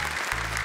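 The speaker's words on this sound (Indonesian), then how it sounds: "Boleh tepuk tangan untuk 3 peserta pertama." A studio audience on the Indonesian TV talent show Hafiz Indonesia 2025 applauds for the first three contestants. It is a brief, steady wash of clapping over a low hum.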